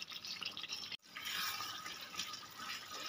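A half spoonful of kewra water is poured into chicken rezala in a home kitchen, giving a soft, close trickle and splash, quiet and steady, with no speech.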